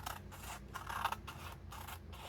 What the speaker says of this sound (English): I think we're just going to cut the flaps right off